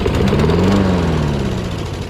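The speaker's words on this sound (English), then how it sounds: "We know that this engine works." Honda HS520 snowblower engine running steadily at close range, a loud buzzing small-engine drone with a slight rise and fall in pitch and no talk.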